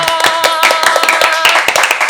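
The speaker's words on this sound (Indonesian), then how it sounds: "beri tepuk tangan dong" A small group claps in a quick, close rhythm on a podcast set, sharp distinct hand claps over lively voices and cheering.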